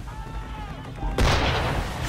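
Ship cannon fire in Assassin's Creed III: a quiet, tonal stretch breaks into a sudden heavy boom that rolls into a long, loud, noisy rumble.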